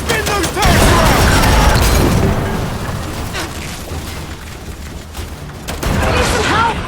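Turret fire during a Gears 5 battle, a heavy roaring barrage with booms and mechanical clatter that eases off midway, then surges again near the end; shouting voices are mixed in.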